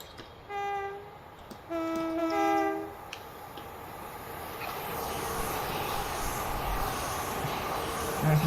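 A Class 450 electric train sounds its two-tone horn in several short blasts while passing through a station in Train Simulator, then the rumble and rolling noise of the train carry on alone.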